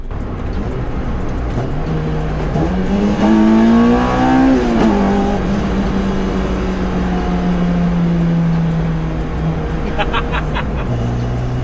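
A K-swapped Honda Civic coupe engine revs up sharply on its first drive, the pitch climbing to a loud peak and then settling into a sustained drone, with a brief burst of rattling near the end.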